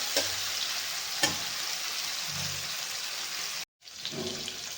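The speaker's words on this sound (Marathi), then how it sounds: "बघा टमॅटो चांगला विरघळलेला आहे आपल्या तेलामध्ये" Tomatoes cooking down in hot oil for a Marathi bharit dish, giving a steady, dense sizzle that fills the whole stretch, with a brief cut to silence near the end before the frying resumes.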